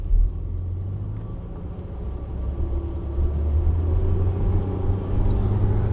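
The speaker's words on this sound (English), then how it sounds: "I will put it in 1st gear and then I'm gonna shift directly into 5th" A Ford Ranger pickup engine pulling in first gear, a low rumbling drone that swells steadily louder as it accelerates, heard from inside the cab without talk.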